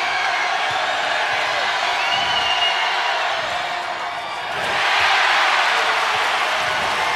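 A basketball arena crowd of over 4,000 at an NCAA college game between Alabama and South Dakota State reacts with a loud, sustained roar of disapproval to a replay, swelling near the end.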